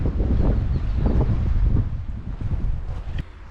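Strong wind at Jordan Pond in Acadia National Park buffets the microphone in steady low, rumbling gusts that ease slightly toward the end.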